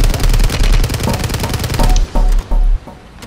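Loud, rapid automatic gunfire in a Call of Duty video game bursts in a fast rattling stream, then breaks into a few heavier separate shots close by.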